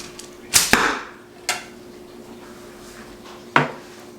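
Arrows shot from a birch longbow with bamboo backing strike the target with sharp, woody thwacks, two close together and then a couple more spaced apart, near and crisp against a quiet background.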